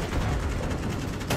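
Kalashnikov rifle fire in a video game rattles as a loud, dense automatic burst, with rapid continuous shots lasting about a second and a brief sharper crack at the end.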